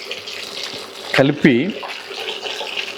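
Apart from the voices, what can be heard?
cashew chicken pieces frying in oil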